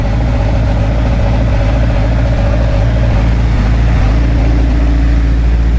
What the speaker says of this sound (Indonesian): Nah ini genset silent ya. Bunyinya masih belum terlalu berat ya kawan-kawan ya.